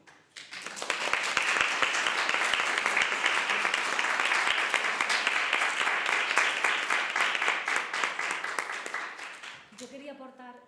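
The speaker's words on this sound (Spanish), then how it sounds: "aplaudamos a Carmen Talegona y la Pico" An audience at a talk on flamenco dance applauds the dancer Carmen La Talegona, a loud, dense burst of clapping that swells quickly, holds for about nine seconds and then fades as voices return.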